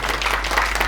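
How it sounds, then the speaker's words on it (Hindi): Audience applause at a yoga camp, a dense burst of many hands clapping together, loud and close for under a second with no other sound. "एकचोटि जोरदार ताली बजाउनुहोस्"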